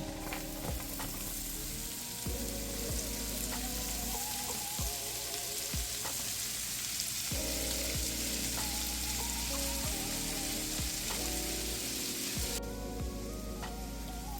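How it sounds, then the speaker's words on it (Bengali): Chopped onion and garlic fry in hot oil over medium heat, a close, continuous sizzle and crackle broken by repeated scrapes and clinks of a spatula stirring in the pan. "এখন দেব আমি কিছুটা পেঁয়াজ কুচি"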